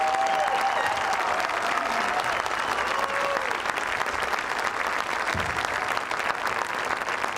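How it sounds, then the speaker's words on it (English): Stadium crowd at a high school football game, Scottsboro vs North Jackson, giving a sustained round of applause for cancer survivors, a steady wash of clapping and cheering from a large crowd, distant and continuous. "please get on your feet and give these survivors a very special Wildcat round of applause"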